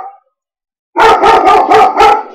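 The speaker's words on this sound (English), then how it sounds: "And yes, that's my dog barking because it is here," A pet dog indoors barks five times in a quick, even series, loud and close, after a moment of silence.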